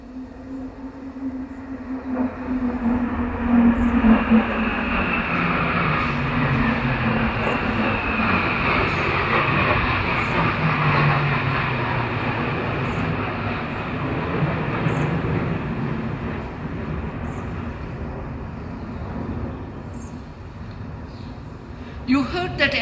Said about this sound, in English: You heard that aeroplane go by.